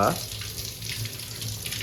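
Running water splashes steadily into a sink as metal puja utensils are rinsed, with a brief clink at the start.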